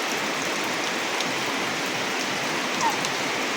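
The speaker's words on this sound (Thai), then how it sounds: "ฝนตก เมื่อวานมื้อซืนนี่ก็ตก" Steady rain falls outdoors in rural Thailand, a dense, even hiss of drops that stays close and unbroken throughout, with no voices.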